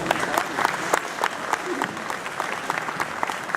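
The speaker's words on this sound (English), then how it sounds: "Big round of applause, Thom Cantrall" Applause from a conference audience at an international Bigfoot conference, a steady dense patter of many hands clapping close by for a few seconds, with a voice speaking over it.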